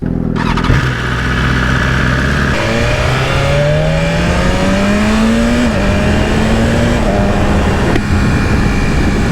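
A 2020 BMW S1000RR motorcycle ridden on the road, its engine loud and close, climbing in pitch through the gears with a few shifts and a steady high-revving drone, no talking.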